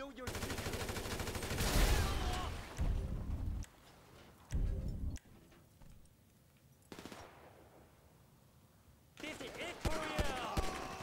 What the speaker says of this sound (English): A lot of people shooting at me.